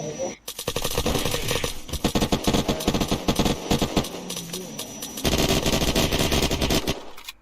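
Unturned gunfire: rapid, loud automatic bursts in quick succession, nearly continuous with short pauses, a dense rattle of close-range shots throughout.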